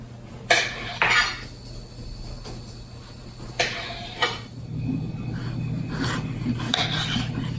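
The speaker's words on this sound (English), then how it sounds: "then you're going to be cutting your squash into planks" A knife slices squash into planks, giving several short rasping cuts and board knocks spaced a few seconds apart, clear and close, over a faint steady background hum.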